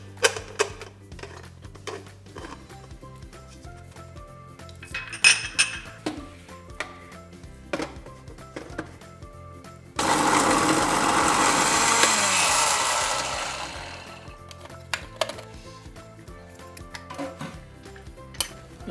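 An electric spice grinder whirring through whole cinnamon, green cardamom and cloves in one loud burst of about four seconds, surrounded by scattered clinks and taps of jar and utensils.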